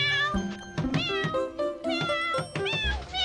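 A voice imitates a cat, giving a quick series of high, close meows in an indoor scene.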